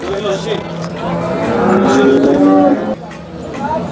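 A cow moos loudly and long at a busy cattle market in Sangola, its voice rising through a steady crowd hum with people talking nearby.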